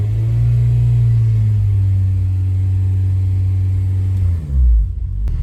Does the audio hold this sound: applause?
no